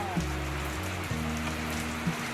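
Heavy rain falls steadily as a dense broadband hiss, continuous and fairly loud, with a low tonal hum running underneath.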